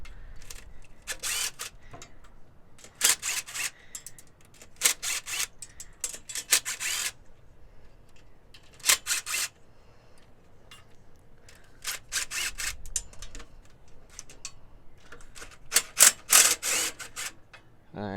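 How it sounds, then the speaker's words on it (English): A ratchet wrench loosens the 12 mm header bolts on a Honda H22A engine during a swap into a JDM Honda Civic, giving bursts of rapid clicking between pauses, fairly close and alone. "taking off these header bolts, which are all 12s"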